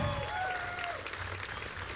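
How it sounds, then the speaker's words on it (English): Applause from the crowd at the World's Strongest Man event for the crew members, a steady round of clapping with a brief low murmur at the start and faint whistling tones over it. "let's have a round of applause for our crew members"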